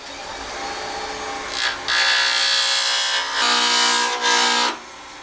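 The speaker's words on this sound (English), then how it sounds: "I bring it over, turn on my lathe wide open." High-speed steel roughing gouge on a wood lathe running wide open, shaping a pen blank: a steady whirring hum with bursts of bright scraping hiss as the tool meets the wood, close and loud.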